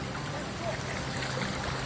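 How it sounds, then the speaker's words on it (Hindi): Waterfall water pouring down and spreading across a main mountain road, a steady broadband rush of flowing water heard continuously from fairly close, with no clear voices over it. "और झरना भी गिर रहा है ऐसे, पानी पूरा मेन रोड में है पानी"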